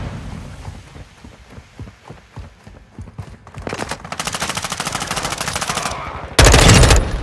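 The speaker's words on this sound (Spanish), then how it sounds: "¡Disparando!" Automatic and single gunfire in Call of Duty MW2 multiplayer, starting as scattered shots and building into dense, loud sustained bursts, ending in an even louder close burst.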